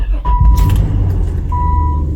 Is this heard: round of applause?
no